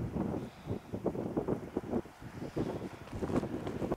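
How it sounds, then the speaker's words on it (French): Steady wind buffeting the microphone outdoors in Corsica, a rough, gusty rumble that rises and falls throughout without pause. "Un petit peu de vent, il fait plus frais."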